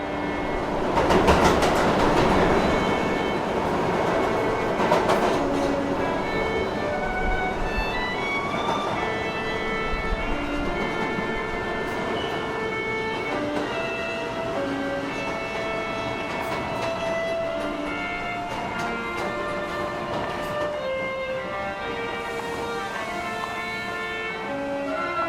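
A train in a Washington DC subway station rumbles steadily and loudly throughout, with sustained tonal squeals and horn-like pitches layered over the continuous rolling noise of the cars.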